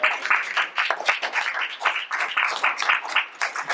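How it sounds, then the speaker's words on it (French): An audience at a touring theatre troupe's performance gives bright, lively applause in uneven surging waves of many hands clapping, fairly close and loud. "Je vous demande d'applaudir."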